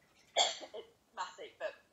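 A person with a lingering cough gives a few short, faint coughs and throat-clearing bursts indoors, spaced unevenly across a couple of seconds.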